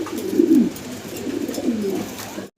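A pair of jet-black imported fancy pigeons coo with close, low, rolling calls, strongest early on and then steady until an abrupt stop.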